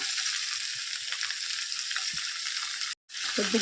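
About half a kilo of red tomatoes sizzle in hot oil with turmeric, a steady close frying hiss with faint stirring, broken by a brief cut near the end.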